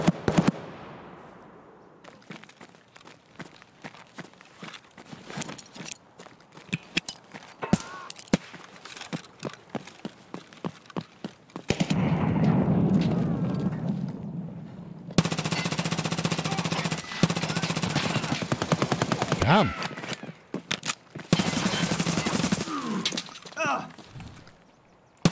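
Bursts of AK rifle gunfire in the video game Escape from Tarkov, sharp repeated cracks, single and automatic, some distant and some loud and near, with brief talk between them.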